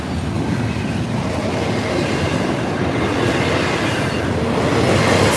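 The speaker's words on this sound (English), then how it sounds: "Nice train, yeah!" An FEC freight train rolls past with manifest cars and intermodal cars, a loud, continuous rumble of wheels and cars that grows slightly toward the end, with no voices.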